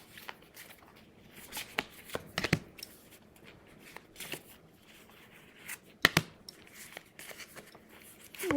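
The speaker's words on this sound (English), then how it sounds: "Let's pull 18 cards" Tarot cards are shuffled and pulled by hand, with quiet close-up riffles, flicks and soft card slaps scattered irregularly over near silence.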